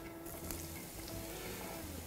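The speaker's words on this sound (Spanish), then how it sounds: "Un sofritito tranquilo, que se poche bien la cebolla" Onion and garlic frying gently in a pan for a fish sauce, a steady close sizzle with soft crackles throughout and no talking.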